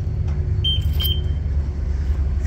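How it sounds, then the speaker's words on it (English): A 2003 Toyota Tacoma running just after a cold start, with a steady, loud low engine rumble, a faint high whine, and a few brief light chirps partway through. "This is the cold start video of the 2003 Toyota Tacoma."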